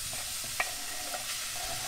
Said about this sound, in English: I'm going to put about a tablespoon of butter into the pan. And we're going to add finely chopped garlic and some chopped onion to the pan.